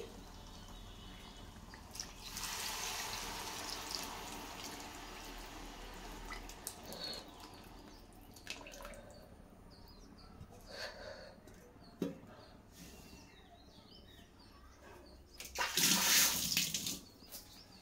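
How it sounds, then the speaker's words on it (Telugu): Tamarind juice poured into a simmering stuffed-eggplant masala curry, a soft steady liquid pour and splash running for several seconds, with brief clinks and a louder splashy burst near the end, heard alone without talk. "ఇదిగోండి దాంట్లోనే చింతపండు రసం కూడా వేసి"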